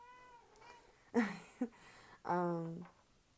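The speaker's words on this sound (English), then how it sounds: "My kitty cat is over here." A pet cat meows several times indoors, faint and close: a couple of short chirpy calls, then a longer drawn-out meow, over a quiet room hum.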